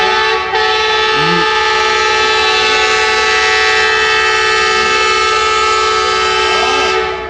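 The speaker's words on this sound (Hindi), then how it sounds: "डिपार्चर विसल हो गया है" Loud, sustained departure whistle of the Allama Iqbal Express at a station, a steady tonal blast lasting several seconds over rumbling rail noise, with brief overlapping horn-like swoops near the start and end.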